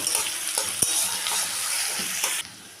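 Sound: garlic and chopped onion frying in hot oil

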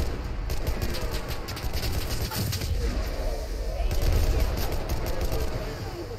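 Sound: gunfire in video game Enlisted

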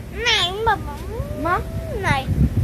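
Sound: cat meowing

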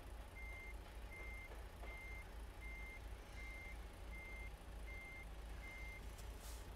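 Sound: truck reversing beeps while backing up, American Truck Simulator video game

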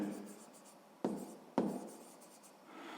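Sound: writing a word by hand

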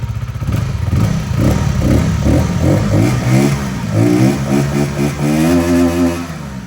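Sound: VOGE R125 125cc water-cooled motorcycle engine revving

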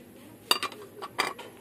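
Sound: plates clinking as they are handled

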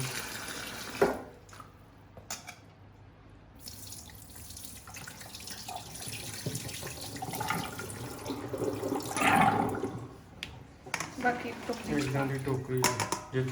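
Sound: washing chillies in water

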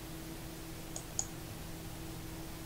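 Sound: mouse click on Print button

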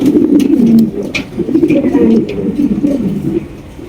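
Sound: king pigeons cooing at a pigeon farm

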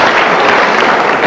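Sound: studio audience clapping

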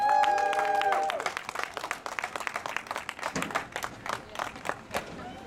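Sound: applause at a demonstration in The Hague

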